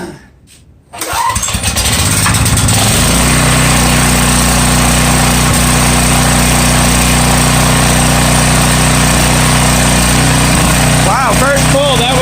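A Craftsman 11 HP 6300-watt generator catches on a single pull and settles into a loud, steady, close running drone that carries on with no letup.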